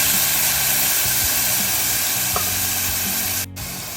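Tamarind water poured into a pan of sautéed tomatoes and chillies for a nethili fish sothi, giving a steady close sizzle and hiss throughout, with a brief sharp burst near the end and no speech.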